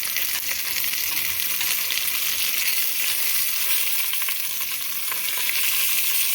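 Steady loud sizzle of food frying in a pan for miso ramen, with a faint scrape as it is flipped partway through, continuous hiss throughout and no talking.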